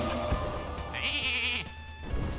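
A single electronic sheep bleat from Hearthstone's Polymorph spell rings out, short and bright, over a steady game soundtrack hum.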